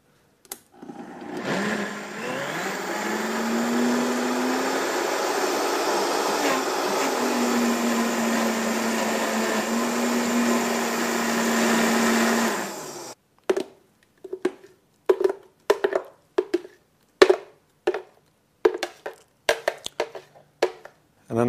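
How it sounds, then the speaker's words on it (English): A blender whirs steadily for about twelve seconds with a rising pitch while making raw food, then stops and is followed by a series of short, sharp pulsing bursts. "And then let's do some more blender action."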